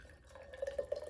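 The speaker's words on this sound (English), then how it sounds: "we're going to add the water to the jar." Water poured into a jar, heard as faint, close, trickling splashes that grow into a few brighter drip-like bursts toward the end.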